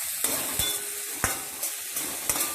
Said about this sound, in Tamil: அப்புறம் இந்த இஞ்சி பூண்டு கொஞ்சமாக வச்சுருக்கோம், அதை போடுறோம்.